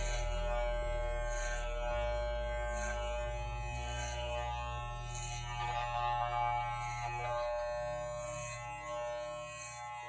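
Electric hair clippers cut a child's hair with a continuous close buzz whose pitch shifts as the blades move through the hair, with no talk over it.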